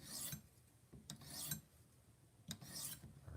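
A kitchen knife is drawn across a sharpening stone in slow strokes, each a dry rasping scrape with short pauses between, close and fairly quiet.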